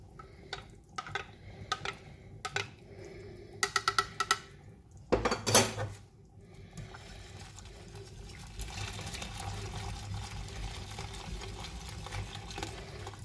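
Hot cooking liquid from a pot of chicken and celeriac stew is ladled into a beaten egg mixture to temper it. Rhythmic clinks of a spoon against a bowl come first, then a pour and splash, then a steady close simmering bubble with no talking.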